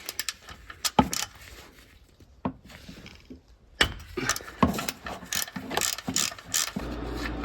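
A ratchet works loose the front axle drain plug on a Jeep Gladiator JT, producing several close bursts of quick metallic clicking separated by short pauses.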